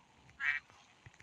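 Birds perched high on a 23-metre tower give a single faint, brief quack-like call, distant and otherwise surrounded by quiet.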